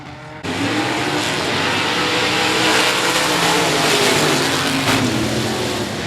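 Stock cars roar around the 105 Speedway oval, a loud continuous engine drone that swells in as the pack sweeps past close by and keeps rumbling steadily.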